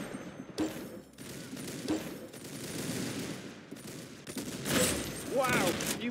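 Rapid bursts of video game gunfire crackle over several seconds, loud and close, with a player's voice talking in between.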